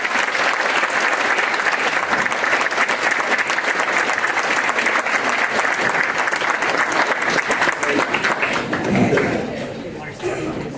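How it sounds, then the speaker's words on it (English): Steady, loud audience applause at a junior high awards event for an eighth-grade award recipient, with dense continuous clapping from a crowd that holds for about ten seconds before easing slightly at the end. "Please join me in a round of applause for this year's 8th grade male recipient,"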